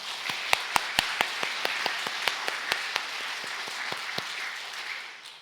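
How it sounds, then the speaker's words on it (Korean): A church congregation claps together after a sermon, with sharp individual claps standing out early. The applause stays moderately loud as a steady patter and fades toward the end. "우리 하나님께 영광의 박수 올려드리겠습니다"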